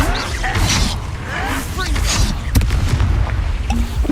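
The Bombarda blasting spell in the Hogwarts Legacy video game sets off deep booming blasts during combat, with sharp impacts and rumbling layered under character voices.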